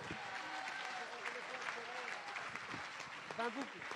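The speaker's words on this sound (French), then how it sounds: "l'ami Teddy Montero, que je vous demande d'applaudir, s'il vous plaît" Spectators at the Chaumont Urban Trail 24-hour race applaud runner Teddy Montero, a faint, distant patter of outdoor clapping with scattered voices and crowd murmur around it.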